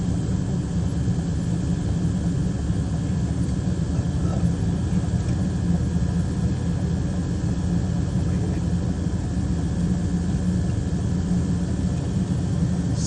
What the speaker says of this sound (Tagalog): Pinainit ng makina kasi maya-maya mag-take off na yan.